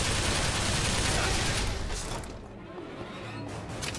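Gunfire in Bioshock Infinite: Burial at Sea, a dense, loud burst of shots and crashing impacts that fades after a couple of seconds, then rises again.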